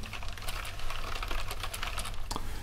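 Rapid, close clicking of fingers typing on a professional computer keyboard, with a steady stream of crisp keystrokes and no voices.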